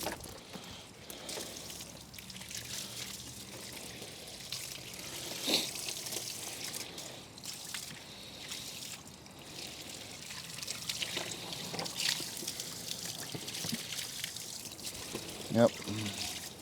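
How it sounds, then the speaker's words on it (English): A hose rinses brown, dirt-laden foam off a car during detailing, a soft steady spray and trickle running under intermittent talk. "So just rinse that off."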